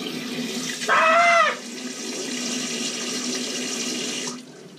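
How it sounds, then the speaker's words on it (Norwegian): Water runs steadily from a bathroom sink tap in a Copenhagen lodging, a continuous rushing hiss that starts abruptly, brief squeaky tap sound near the start, then cuts off near the end. "når du setter på vannet i vasken her for å pusse tennene"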